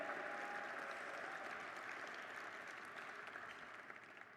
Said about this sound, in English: give a big round of applause and a thank you to our chef, Jim Cabral